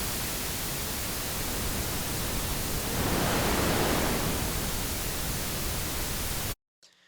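Broadband noise run through a Zebra2 synth high shelf filter with the cutoff set midway, a steady loud hiss that swells slightly in the middle before cutting off abruptly near the end.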